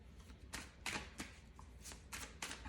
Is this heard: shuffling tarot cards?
yes